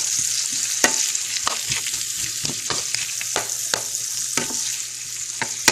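Sliced onion fries on high heat in a pan, a constant close sizzle broken by regular sharp clicks and scrapes of a spoon stirring against the metal, moderately loud with no one speaking.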